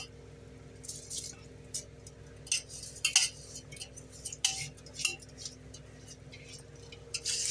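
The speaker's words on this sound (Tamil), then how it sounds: "தண்ணி நல்லா கொதிக்க ஆரம்பிச்சிருச்சு இப்போது நம்ம ரைஸு போட்டுக்கலாம்" Seeraga samba rice is tipped from a tumbler into boiling water in a pot for vegetable biryani. Scattered light clinks and short rustling pours sound close over a faint steady hum, with no talking.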